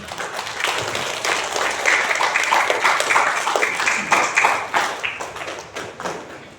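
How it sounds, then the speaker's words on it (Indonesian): Audience applause at a junior high school graduation ceremony, a sustained crowd of hands clapping with some taps and thumps, building and then tapering over several seconds. "Coba tepuk tangan dulu untuk sekolah."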